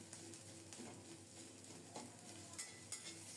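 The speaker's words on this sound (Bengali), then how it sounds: "অল্প তাপে একটু সময় নিয়ে লাল লাল করে ভেজে নেব" Quiet, steady sizzling of grated coconut frying in a pan over low heat, with occasional soft scrapes of stirring.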